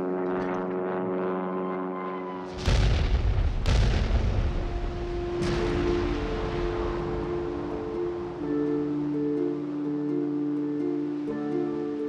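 Newly invented 2,000-pound aerial bombs slam into a captured German battleship: three heavy, booming blasts in quick succession, the first two close together, ringing out over a sustained tonal drone that carries through the whole stretch.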